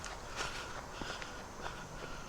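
Footsteps on a woodland stretch of the Appalachian Trail near Duncannon, Pennsylvania, a steady series of soft, near crunching steps over quiet outdoor ambience.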